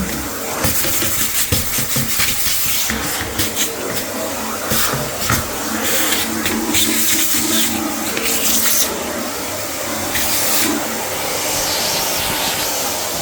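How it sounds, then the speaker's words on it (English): A vacuum cleaner whirs steadily during end-of-tenancy cleaning of a sink and toilet area, a loud, sustained roar with shifting pitch as the nozzle moves across surfaces, no voices. "Last final vacuum."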